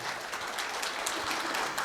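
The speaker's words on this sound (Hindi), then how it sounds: "बराड़ साहब के लिए एक बार ज़बरदस्त तालियां हो जाए।" Seminar audience applause fills the room as a continuous, even wash of many clapping hands, moderately loud throughout the short stretch, with no voices on top.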